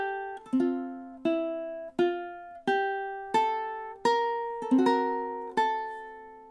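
Ukulele plucking the opening notes of a song, pickup bar into the first measure, clean single strums and notes ringing one after another in a slow, even rhythm, close and alone.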